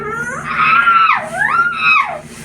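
A woman screams in pain during a massage for a frozen shoulder, giving a loud, sustained wailing cry that rises, dips sharply and climbs again, close up and without other talk over it.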